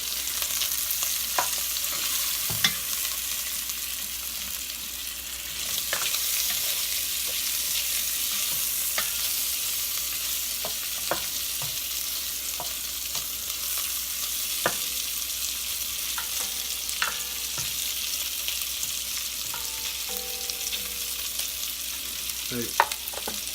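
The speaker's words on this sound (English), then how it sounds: "while the kielbasa is browning, I'm going to give that a quick stir" Sliced kielbasa browns in a hot pan with a steady, fairly loud sizzle throughout, broken by scattered utensil clicks and scrapes as it is stirred.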